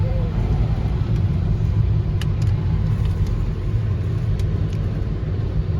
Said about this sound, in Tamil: ஸ்னோ ப்ளோ வண்டி செம்மையா இருக்குல்ல, ஜெய்ஜாண்டிக்கா இருக்கு.